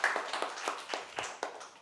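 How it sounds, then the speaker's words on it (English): An audience at a volunteer managers' event gives a brief round of applause. Scattered hand claps form loose, uneven bursts at moderate volume. "Can we give everyone a bit of a round of applause and celebrate while you're here together?"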